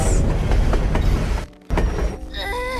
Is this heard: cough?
no